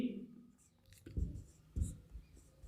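Short, faint scratchy strokes of writing on a board during a chemistry lesson, two firmer strokes standing out amid quiet room tone and a soft voice.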